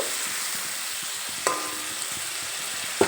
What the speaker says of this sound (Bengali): মশলার মিশ্রণটা দিয়ে একটু নেড়ে চেড়ে নেব